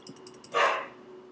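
A single short dog bark, somewhat distant, after a few faint high squeaks, with no one speaking.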